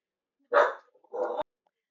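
A dog gives two short, loud barks half a second apart, close by and alone, in a quiet room at home while the mail is being delivered.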